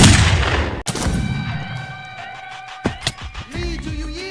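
A loud gunshot boom opens a played song, a sharp crack that decays quickly into sustained musical tones and sung notes.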